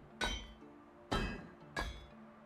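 Bronze hammers being crafted in Medieval Dynasty: three sharp metallic strikes spaced about a second apart, each ringing briefly before fading, clear and close with no talk.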